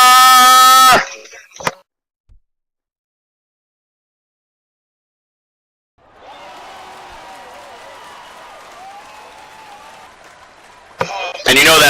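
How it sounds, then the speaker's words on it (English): Applause from a virtual crowd at a Second Life boxing event: a soft, steady patter of clapping that runs for several seconds, after a spoken announcement and before talk resumes. "you know that applause is for my announcing, right?"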